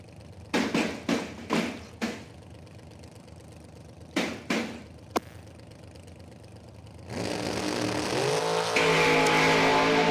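Sportsman drag racing cars at a strip: a few sharp mechanical taps and clicks over a low idle, then an engine roars up loudly and climbs in pitch as a car launches, close and sustained to the end.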